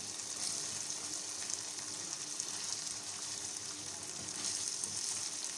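A masala of coriander, roasted cumin and spices fries steadily in a pan, giving a continuous close crackle with a bright hiss and slight stirring, and no voices.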